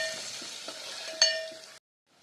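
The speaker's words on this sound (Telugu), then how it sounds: "ఆనియన్స్ బాగా వేగేయండి" Onions fry in a pan with turmeric and curry leaves for a Malabar spinach and brinjal gravy curry, a steady sizzle broken by a few clinks of stirring before it cuts to silence.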